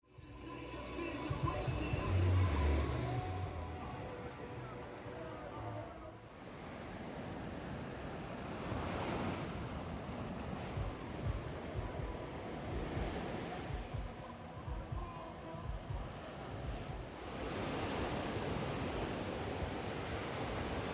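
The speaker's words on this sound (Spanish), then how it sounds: "Me contaron que esta playa es muy profunda, con muchas olas y fría." Surf crashes on a deep, rough beach at Saquarema, Brazil, with repeated surges of waves breaking and washing in over a steady roar, some wind rumble on the microphone, no voices.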